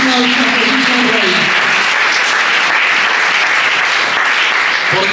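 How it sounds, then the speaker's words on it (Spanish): Church congregation applauds during a sermon on the cross, a dense, sustained wave of clapping that follows a preacher's voice fading out at the start. "Dale ese aplauso a Jesús el Rey."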